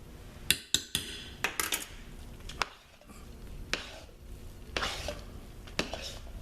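A utensil scrapes and knocks against a pot while stirring thick lavender and lime hot process soap batter, with sharp clinks and softer scraping strokes at a close distance.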